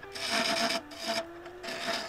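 Rough rasping strokes flatten the bottom of a claret ash bowl, three close scraping passes with short pauses between them.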